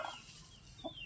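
A brooding hen on a small farm gives a couple of brief, soft clucks close by, otherwise quiet.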